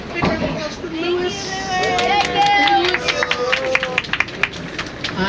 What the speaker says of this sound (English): Big round of applause for Lewis.